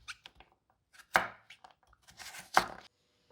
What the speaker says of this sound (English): I will remove the skin of the squash on the other half and then cut it into small cubes